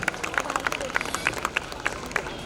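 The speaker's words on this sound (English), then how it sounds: "A big round of applause for these kids for lifting these trophies." Audience applause at a school prize-giving speech, steady crowd clapping with rhythmic accented claps, moderately close, with a murmur of voices underneath.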